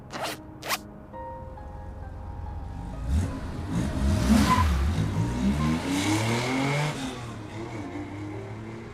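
Car in the video game Love and Deepspace pulling away, with a couple of sharp clicks first, then an engine revving up and swelling into a loud accelerating rush before easing off into a steady hum.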